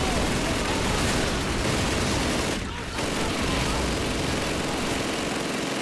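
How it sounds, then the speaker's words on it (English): Enemy gunfire in Call of Duty 2 pours in as a dense, continuous roar of rifle and machine gun shots mixed with explosions, loud and unbroken apart from a brief dip midway. "I'm getting shot from everywhere"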